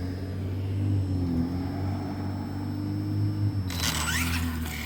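A Losi ProMotoSM radio-controlled motorcycle drives in a small church parking lot, its electric motor giving a steady droning whine that rises and falls slightly, with a brief burst of hiss near the end.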